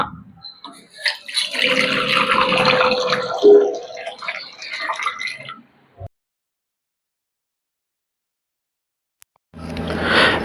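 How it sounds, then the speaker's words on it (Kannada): Water gushes into a pot for a few seconds with a rushing, splashing sound, then stops; silence follows before another burst of noise. Water for gulab jamun sugar syrup. "ನಾಲ್ಕು ಬಟ್ಲು ನೀರು ಹಾಕೊಳ್ಳೋಣ"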